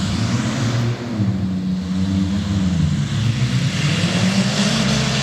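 Modified race cars roar loudly through the bush, a continuous heavy engine drone with shifting rumbling tones, constant and close throughout.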